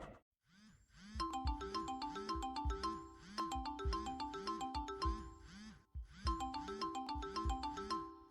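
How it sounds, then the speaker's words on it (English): A phone rings in the Confusion video game, a melodic electronic ringtone looping in repeated phrases with a short break, steady and fairly loud with no talking over it. "Answer the phone."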